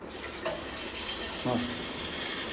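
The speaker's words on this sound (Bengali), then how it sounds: "যে বেসিন থেকে এরকম স্পিডে জল পড়ছে" Water gushes fast and steadily from a washbasin tap in a bathroom, a loud continuous rush with a couple of brief knocks partway through.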